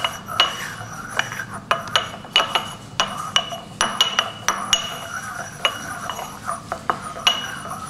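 Ground liver being stirred into 20 ml of distilled water in a glass container for a catalase enzyme lab, with repeated close clinks and taps of the stirrer against the glass at an irregular rhythm.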